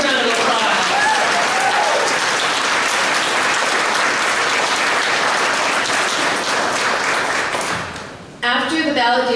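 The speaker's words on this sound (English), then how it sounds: "Let's give them a big round of applause." Sustained audience applause for a high school choir at a music hall of fame concert, loud and steady for about eight seconds before tapering off, followed by a brief burst of a voice at the end.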